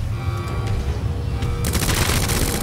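Rapid gunfire from a video game, Resident Evil 2 Remake, with Claire fighting the G boss: a dense burst of shots erupts and continues loud to the end of the clip over a low rumbling game backdrop.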